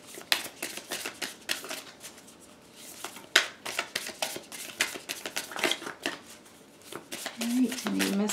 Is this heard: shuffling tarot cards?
yes